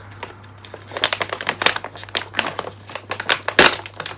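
Packing tape is peeled and ripped off a Japanese Fukubukuro lucky bag. Close, loud crinkling bursts and sticky tearing come in quick, uneven spurts over a few seconds.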